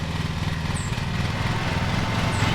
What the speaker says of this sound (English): and then T is full blast.